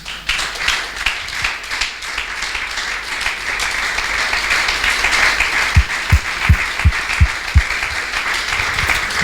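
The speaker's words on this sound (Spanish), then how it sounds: "Aplaudid al Señor." Church congregation applauding together, a broad steady wash of clapping that swells and holds, with several sharper, heavier claps standing out near the end.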